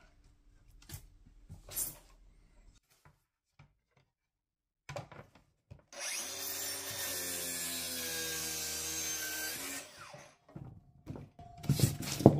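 Bosch GKT 18V-52 cordless plunge saw with a 140 mm blade making a rip cut along wood, a few seconds of loud continuous buzzing whine after quiet handling clicks, then winding down.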